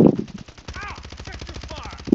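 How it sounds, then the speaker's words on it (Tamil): Automatic gunfire in Warzone 3 Plunder mode: rapid, evenly spaced bursts of shots that run under continuous talk from players over voice chat. "நான் இப்போ தான் சுட்டேன்"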